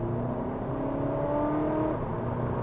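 A remapped 2.0 TDI CUAA diesel engine revs, a steady droning roar with rising harmonic tones, held briefly and heard close without talk.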